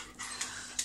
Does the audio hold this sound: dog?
yes